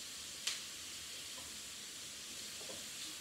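Crushed garlic sizzles in a little oil in a pan, a soft steady hiss throughout with a small clink near the start.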